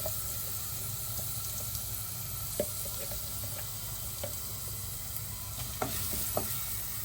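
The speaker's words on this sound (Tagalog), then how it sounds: "Maggisa tayo ng maraming bawang." Plenty of garlic sizzles in hot oil in a pan with a steady, moderate frying hiss, broken by a few faint clinks and scrapes of stirring, with no one speaking.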